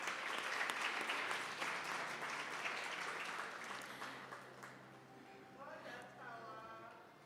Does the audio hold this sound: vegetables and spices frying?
no